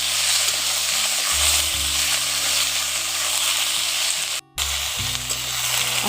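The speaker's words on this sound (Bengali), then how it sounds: "শসাগুলো দিয়ে আলুর সঙ্গে একসঙ্গে ভালো করে একটু ভেজে নিচ্ছি" Sliced cucumbers and potatoes fry together in a pan, giving a loud, steady sizzle that hisses on throughout with one brief cut-out near the end.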